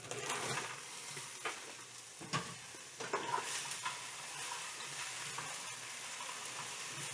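Frozen green beans are stirred in a pan, giving quiet, low-level sizzling with scattered scraping strokes and soft clicks, fairly faint and without talk.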